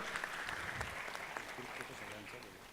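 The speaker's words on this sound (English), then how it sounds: "Ladies and gentlemen, a round of applause." Conference audience applauding steadily at a business forum in Mumbai, a dense wash of clapping held at an even level throughout, with a voice speaking over it.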